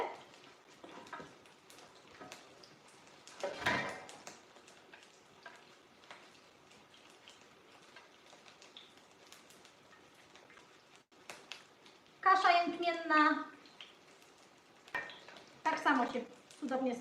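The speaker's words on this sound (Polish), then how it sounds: "będą się wtedy równo smażyły" Pearl barley patties fry in a pan with a steady low sizzle, broken by a few louder bursts of crackling and spitting near the end as the patties are moved or turned.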